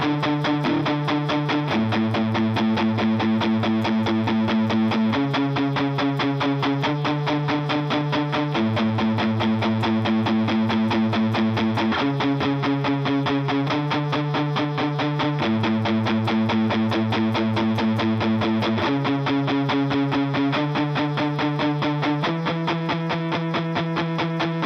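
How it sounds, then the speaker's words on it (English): An overdriven electric guitar plays a repetitive, palm-muted single-note line, with the notes dug in hard and the riff shifting in steady blocks, loud and alone without any voice. "Moving on to the verse, it's just kind of this overdriven, you know, single note thing"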